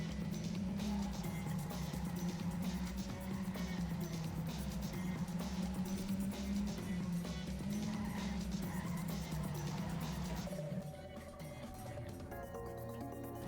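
A car racing in the video game TrackMania United Forever, its engine droning steadily at high revs with tire squeal and skidding, loud and continuous before the engine tone drops near the end.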